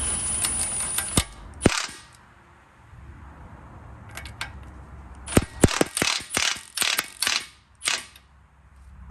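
A hand ratchet tightens a lower ball joint bolt on a 2000-2007 Toyota Sequoia or Tundra, with a few quick ratcheting bursts, a pause, then a longer run of loud, close clicking strokes.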